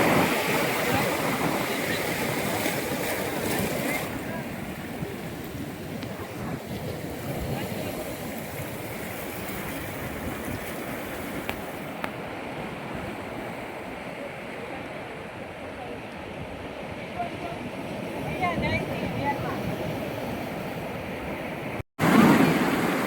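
High ocean waves crash at Nagoa Beach in Diu as a continuous roaring wash of surf, with a person briefly audible over it.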